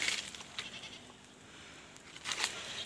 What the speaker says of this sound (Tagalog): Ayun mga kambing natin oh